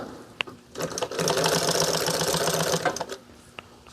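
A sewing machine runs in a steady burst of about two seconds, stitching a piece directly on with no top stitch, preceded and followed by a few faint clicks and handling taps.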